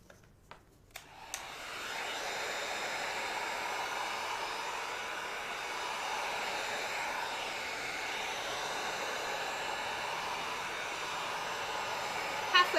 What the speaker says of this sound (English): It's not too much more of the loud heat gun.